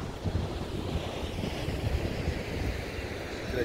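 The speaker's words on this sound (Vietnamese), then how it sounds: "Đó, biển đây." Ocean waves roll onto a sunny beach along an ocean boulevard, a steady broad surf wash mixed with gusty wind rumble on the microphone, with no talk.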